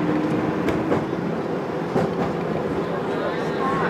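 A Melbourne tram rumbles along its route in a broad, steady roar with faint rhythmic clatter and a high squeal near the end, while a recorded voice announces the stops over it.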